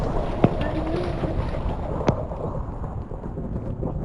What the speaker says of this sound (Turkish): Yıldırım çarptığını gördüm.